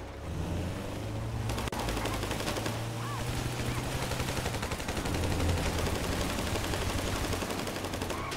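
Rapid automatic gunfire in the video game GTA V, sustained bursts of shots rattling continuously and loudly across the whole stretch with a low engine hum underneath.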